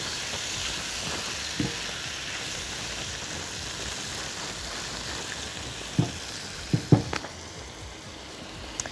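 Shrimp cooking in a pan in a spiced marinade that thickens into a sauce, giving a steady, even sizzle throughout, with a few small clicks and taps near the end.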